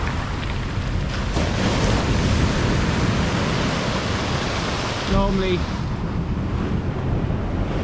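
Strong sea waves and gusting wind on a big tide at Rossall Point, Fleetwood, a loud continuous roar of surf with wind buffeting the microphone, and someone speaking briefly over it.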